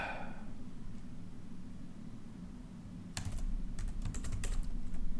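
Light clicks of typing on a computer keyboard start about halfway through, a short burst of keystrokes, quiet and close, with no voices.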